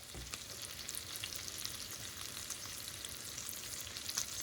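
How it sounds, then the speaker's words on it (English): Steady hiss and crackle of pork chops browning in a hot frying pan, continuous sizzling with small pops, no talking. "I just sprinkle that on pretty liberally while we're browning"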